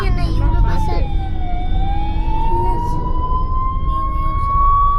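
A wailing emergency siren, likely an ambulance, sweeps up and down on a road during a scenic drive in Wayanad, Kerala, sounding steadily over rumbling traffic and engine noise throughout.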